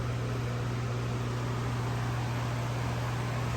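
Screen printing conveyor dryer running steadily, a constant loud hiss of air with a low electrical hum beneath, unchanging and close.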